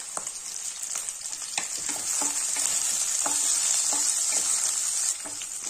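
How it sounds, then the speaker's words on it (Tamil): Chopped green chillies and garlic fry in a pan for green gram rice, giving a bright, constant sizzle with soft, regular spatula scrapes and stirs throughout, close and steady. "இதை வதக்கிக்கலாம். இதுல 2 பச்சை மிளகாய் கட் பண்ணதையும் சேர்த்துக்கிறேன்."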